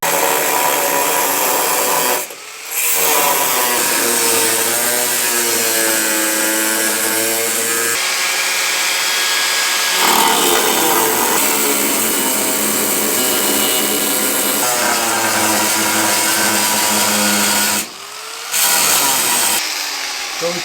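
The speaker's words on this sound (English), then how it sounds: "we're probably just gonna cut out this diameter onto the chassis" A power tool cuts a circular section out of a car chassis to make room for a differential, running in long sustained passes broken by brief pauses, loud and close throughout.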